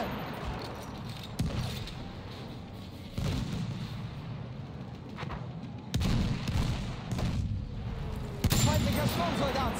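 Battlefield 1 gameplay with sustained gunfire and heavy battle noise, including loud bursts and booms, while voices call out over the din.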